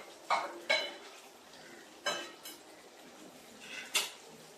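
Previously fried potatoes go into a pot of chicken curry and are stirred, producing a few sharp metal spoon clanks and scrapes against the pot in a quiet kitchen.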